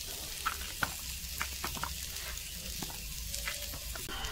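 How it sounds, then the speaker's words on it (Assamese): Potatoes with turmeric and salt fry in a pan for an Assamese dish, a steady close sizzle with faint scattered clicks of stirring running throughout, no talking. "আলুখিনি ভাজা হোৱালৈকে"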